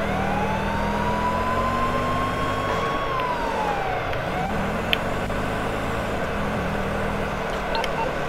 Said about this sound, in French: Est-ce que là t'entends des sirènes?